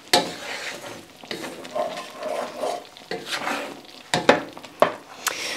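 A spoon stirs freeze-dried food in a simmering pot, making irregular scraping and knocking strokes against the pot amid soft bubbling, with a few sharper clinks near the end.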